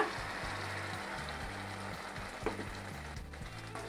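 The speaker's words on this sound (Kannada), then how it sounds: "ಲೋ ಫ್ಲೇಮಲ್ಲೇ 2 ನಿಮಿಷ ಫ್ರೈ ಮಾಡ್ಕೋಬೇಕು ಚೆನ್ನಾಗಿ" Ground masala and onions with curry leaves frying over a low flame in a pan for fish curry, a steady close sizzle and crackle with faint stirring scrapes.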